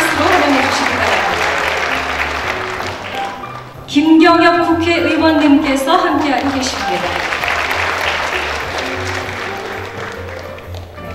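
Audience clapping welcomes guests at a taekwondo demonstration event in Seoul City Hall, sustained applause before and after an announcer's amplified voice naming a lawmaker in the middle.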